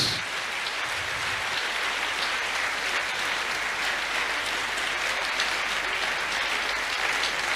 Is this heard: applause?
yes